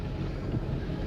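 Strong spring wind gusts at 50 miles an hour buffet the microphone outdoors during a turkey hunt in cool, foggy weather, a steady loud rumble throughout with no speech.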